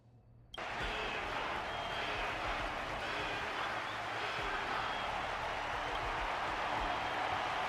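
In Honkai Star Rail, an arena crowd roars in at once after a brief quiet start, a loud, dense wash of cheering and noise that holds steady to the end.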